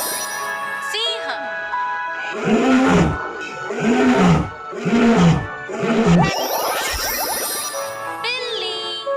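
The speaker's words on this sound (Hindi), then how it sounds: "सिंह।" A lion roars four times in a row, deep and close, each roar rising and falling, set between tinkling chimes and playful musical sounds.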